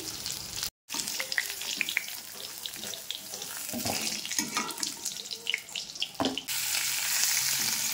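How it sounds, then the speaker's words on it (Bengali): Pieces of pointed gourd (potol) fry in oil in a pan, meant for a potato-and-prawn curry. The sizzle carries sharp spatula clinks and scrapes, broken by a brief dropout, then settles into a louder, steady hiss. "পটলটাকে ভালো করে একটু ভেজে নিচ্ছি।"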